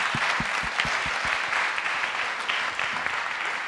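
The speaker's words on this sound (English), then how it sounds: "So big round of applause for all of the startups here." Audience at an entrepreneurship competition applauding the startups: dense crowd clapping sustained across the whole stretch, with a few distinct nearby claps standing out at the start, no speech over it.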